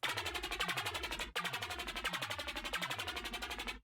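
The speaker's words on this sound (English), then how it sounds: "these like little arpeggios that play in the middle with some very weird EQ" Busy synth arpeggios ripple in quick repeating notes over a low pulsing line, bright and slightly harsh in tone, with a brief dropout partway through.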